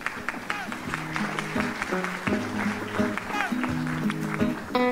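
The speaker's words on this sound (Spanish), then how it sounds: "Un fuerte aplauso para ella." An audience at a university event in Quito applauds steadily as a guest is welcomed onto the stage, moderate clapping carrying on under background voices and sounds throughout.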